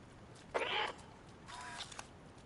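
A cat lets out a short, loud meow, followed a moment later by a second, softer and more drawn-out meowing cry, with no talking.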